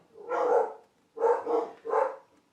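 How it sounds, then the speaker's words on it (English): Several dogs bark in three broad bursts, close and fairly loud, with short gaps between the first bark and a quick pair that follows. "Sorry, the dogs wanted to be known."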